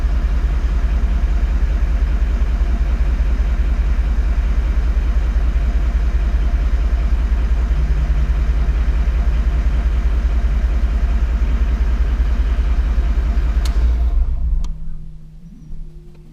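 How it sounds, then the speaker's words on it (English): A Toyota Land Cruiser 79 double-cab idles with a steady low diesel-like rumble for about fourteen seconds, then the engine cuts off and only faint quiet remains. "now with the engine on"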